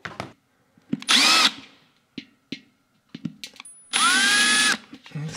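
An electric drill with a dull bit bores into an old industrial lamp being upcycled, two sustained whining bursts of close, loud drilling separated by short knocks, clicks and handling noises.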